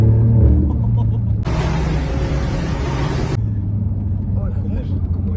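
A BMW i8 in Liberty Walk trim drives past with a steady engine rumble, and people talk over it.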